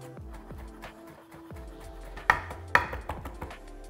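A knife chopping fresh chervil on a cutting board, with a run of quick, close taps followed by a couple of harder, louder chops near the end.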